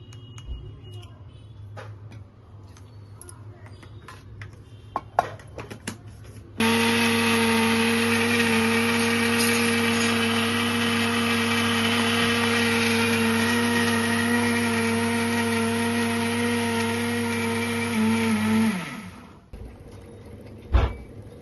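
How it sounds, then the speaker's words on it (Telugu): A mixie mixer grinder grinding ragi, starting with a sudden steady loud motor whine that holds for about twelve seconds and then winds down to a stop, with light handling noises before and after. "ఇదిగోండి మిక్సీలో వేసేసానండి ఇవి మెత్తగా రుబ్బుకోవాలండి రుబ్బేగా చూపిస్తానండి"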